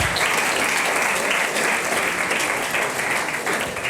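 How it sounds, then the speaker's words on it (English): Audience applause welcomes Karl Edelbauer, CEO of Hockify, onto the stage at a startup panel discussion. A dense, steady wash of many hands clapping runs the full length at an even level, with no talk over it. "And that's the part where you applaud."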